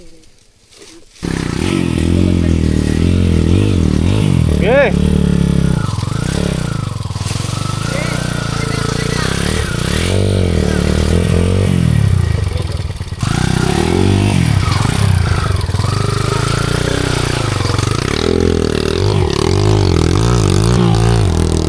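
A motorcycle engine starts up and revs repeatedly, rising and falling in pitch, loud and close, with a brief spoken word over it.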